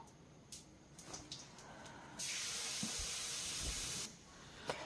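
Ginger and green chili paste hitting a hot pan, a sudden loud steamy hiss that holds steady for a couple of seconds, then cuts off, with a few faint clicks before and after.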